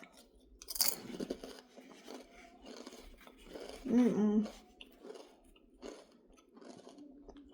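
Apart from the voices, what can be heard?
chewing crunchy Miss Vickie's spicy dill pickle kettle chips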